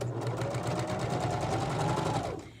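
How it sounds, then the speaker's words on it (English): Sewing machine stitching fabric for a drawstring bag, a steady rapid mechanical whir running close and alone for a couple of seconds before stopping. "And then continue sewing on"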